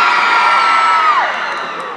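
An audience of Sailor Moon fans at a live show in Arequipa screams and cheers. The shrill, loud crowd noise holds steady, then eases slightly toward the end.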